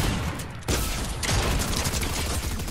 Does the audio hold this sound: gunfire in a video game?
yes